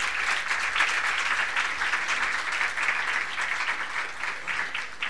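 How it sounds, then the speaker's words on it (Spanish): A lecture audience gives a professor a sustained round of applause after his talk on the pedagogy of diversity, many hands clapping steadily at moderate volume from across the hall, with no talk over it. "Un aplauso para el profesor Juan."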